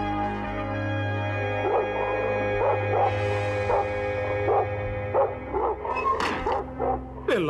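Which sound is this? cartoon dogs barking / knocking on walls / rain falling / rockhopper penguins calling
cartoon dogs barking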